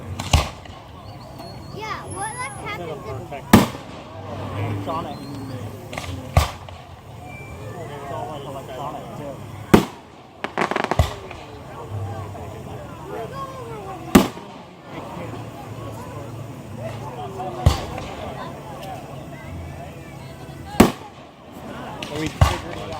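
Fireworks at a 2016 Sebastopol show pop in sharp, scattered bangs every few seconds, some near and loud, over a background of people talking and children chattering.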